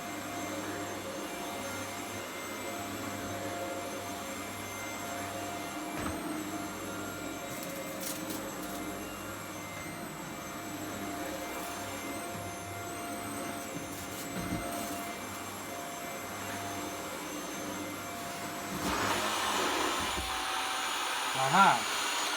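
A Shark Duo Clean vacuum cleaner hums steadily on its low power setting, a quiet continuous drone with faint whining tones, ending in a brief louder rattle and a sucking burst near the end.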